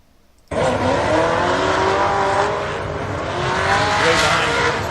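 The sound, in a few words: number 3 race car on a qualifying run, tires squealing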